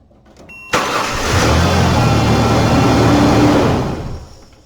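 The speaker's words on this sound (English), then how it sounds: "So now I just got to go start my truck." A truck engine cranks and catches with a sudden loud burst, then settles into a steady, close rumbling idle that fades slightly near the end.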